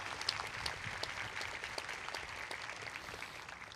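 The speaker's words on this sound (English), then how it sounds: "Please give them a round of applause." Applause from a university commencement audience fills the space, a dense, even clatter of many hands clapping that carries on steadily and tapers slightly toward the end.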